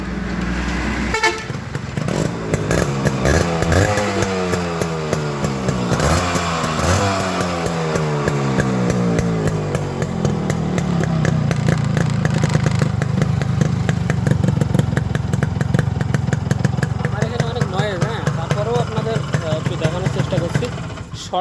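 A Yamaha RX 100 motorcycle engine runs close by, revving repeatedly with rising and falling pitch sweeps, then settling into a steady, loud running drone.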